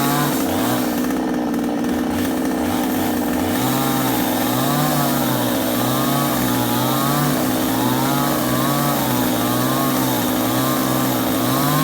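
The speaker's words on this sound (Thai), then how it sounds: "ดูจังหวะเครื่องเลื่อยนะคะ" A chainsaw runs continuously and loudly, its engine pitch rising and falling in repeated waves as it cuts into a 300-year-old tree.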